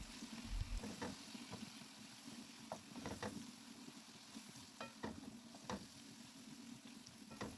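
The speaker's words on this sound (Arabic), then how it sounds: "وندي بقى تقليبة كده أخيرة للسجق علشان يتشرب من التوابل ومن دبس الرمان والصويا صوص ويتسبك معاهم" Sausage sizzles in a pan with spices, pomegranate molasses and soy sauce while a utensil stirs it, giving soft scraping taps over a low continuous fry, quiet and close.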